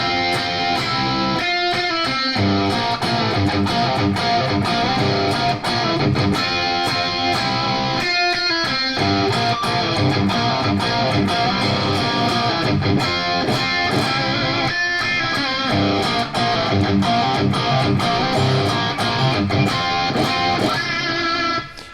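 Heavily distorted electric guitar with scooped mids chugs through thick, chunky riffs with brief stops, loud and continuous throughout.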